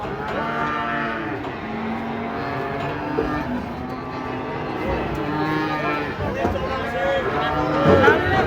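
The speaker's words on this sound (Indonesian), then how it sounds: "Sapi teko." Cattle mooing repeatedly as a large cow is unloaded from a truck, drawn-out lowing calls over a steady background murmur of people talking.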